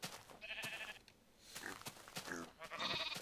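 Sheep in the Minecraft video game bleat faintly several times in a quiet pen shared with pigs, the calls coming in short, spaced bursts.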